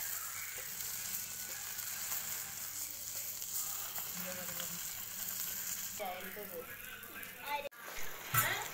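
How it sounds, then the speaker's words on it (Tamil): Fish fries in a pan for a village-style Tamil fish fry, giving a steady, fairly soft sizzling hiss throughout, with a few utensil clinks and scrapes near the end. "இப்போ பாருங்கள் நல்லா ஃப்ரை ஆகிருச்சு"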